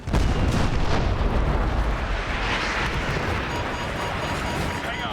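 Heavy bombardment pounds a castle as it collapses in Call of Duty: Modern Warfare 2, a dense continuous roar of explosions and artillery rumble, loud and sustained throughout.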